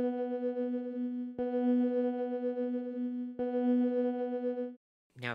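A sustained synthesizer tone with rich stacked harmonics, retriggered twice in a row, then a brief rising sweep as it cuts off.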